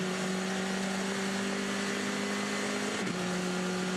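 Formula 4 race car at Sydney Motorsport Park accelerating hard in sixth gear toward 200 km/h, a loud steady high engine drone with a brief pitch dip around a gearshift before holding again.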